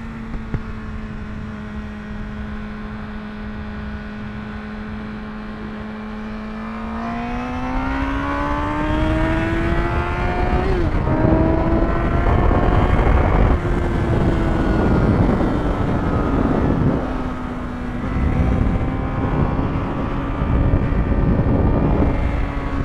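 A Honda CBR1000RR motorcycle engine holds a steady high drone, then revs up hard at full throttle and stays loud and strained with shifting pitch, heard up close.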